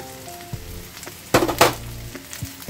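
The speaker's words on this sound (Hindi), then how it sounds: "पत्ता गोभी को भूनते हैं थोड़ी देर के लिए" Cabbage and carrots fry in a pan with a soft steady sizzle, broken by a couple of louder stirring scrapes and hisses near the middle of the short stretch.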